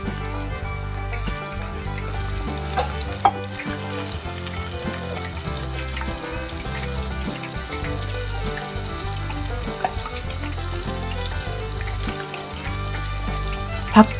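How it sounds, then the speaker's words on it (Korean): Oil sizzles and crackles steadily as a pork cutlet deep-fries, a continuous close hiss with occasional small pops and no talking. "뒤집어서 20초를 튀겨주세요."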